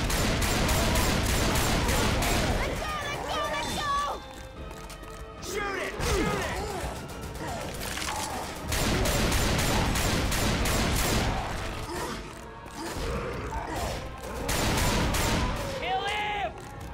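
Dense rapid gunfire pours at a Tank in Left 4 Dead 2, sustained bursts near and loud with crashes, brief lulls around the middle and near the end, mixed with game noise and voices.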